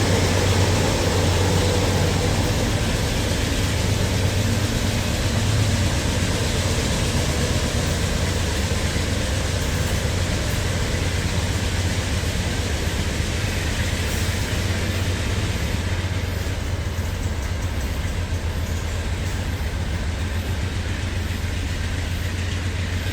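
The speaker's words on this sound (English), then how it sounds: "is this another meet with an inbound train to North Yard?" An inbound freight train rumbles past on a meet near North Yard in Birmingham, a steady, loud low roar and rolling wagon noise that carries on without a break, with no voices.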